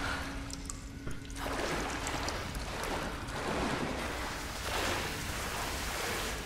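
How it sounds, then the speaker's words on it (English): Waterfall in a dank cave in the Tomb Raider video game, a steady rushing, hissing wash of water that surges slightly and stays fairly faint throughout. "Waterfall."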